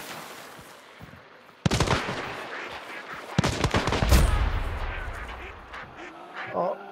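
Sharp bursts of video game gunfire crack in quick volleys, loud and close, with softer background noise between the bursts.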